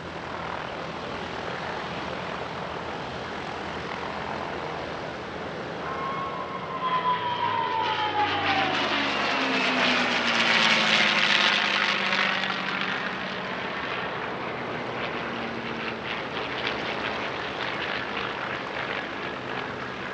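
A 1945-built P-51D Mustang piston fighter flies a solo airshow display, its engine droning loudly throughout and swelling to a louder pass overhead before slowly fading, set against constant outdoor noise.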